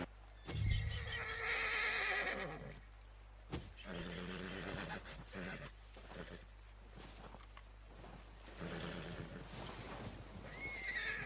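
A horse in the video game Red Dead Redemption 2 gives a loud whinny near the start, then snorts and shifts about with hoof sounds, followed by softer breathy neighs later on, close by.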